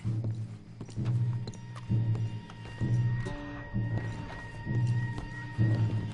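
Horses trot in Red Dead Redemption 2, giving a steady rhythmic thud of hooves at close range that repeats every second or so, with faint background game sounds and no talking over it.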